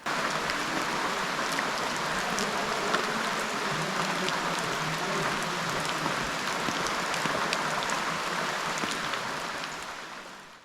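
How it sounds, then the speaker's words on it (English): Steady rain falls on a morning in Zimbabwe's rural Eastern Highlands, a dense, even hiss of drops on surfaces that holds constant and then fades out at the end, with no voices. "Rainy morning in typical Eastern Highlands fashion."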